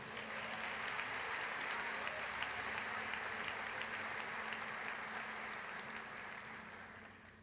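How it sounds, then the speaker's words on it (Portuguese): Steady applause from a church congregation, a dense sustained clatter of clapping that holds for several seconds and slowly fades. "Quantos podem dizer amém e dar um aplauso ao Senhor?"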